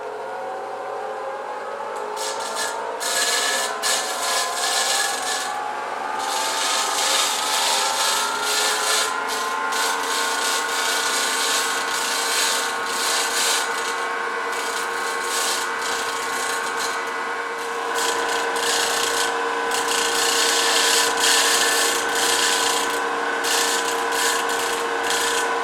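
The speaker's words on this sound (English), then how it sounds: "So I got the pontils on either end to grind off" Steady grinding as a glass marble's pontils are ground off on a machine, a continuous rubbing whir with a humming motor tone and scratchy texture, unbroken and fairly loud throughout.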